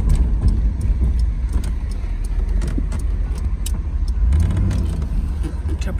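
A 1980 Mercedes-Benz SL 450 with an O2 sensor is heard from inside while it drives. A low engine and road rumble runs steadily throughout, and light rattles and clicks sit on top.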